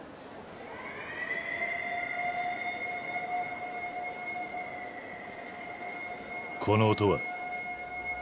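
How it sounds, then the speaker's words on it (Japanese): A steady, wailing siren from the video game Fist of the North Star: Lost Paradise (Hokuto ga Gotoku) holds a sustained tone throughout, with a brief spoken phrase near the end over it. "このサイレンは強軍の襲撃だ。"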